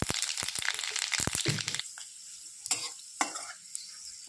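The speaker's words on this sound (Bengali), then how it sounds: "ভাজার কড়াইটাতে একটা শুকনো লঙ্কা দিয়ে দিলাম। এটা তেজপাতা, এই যে 5 ফোড়ন দিয়ে দিলাম।" Dried chilli, bay leaf and five-spice seeds hit hot oil in a frying wok: a dense burst of sharp crackling and stirring, then scattered pops and sizzles easing off.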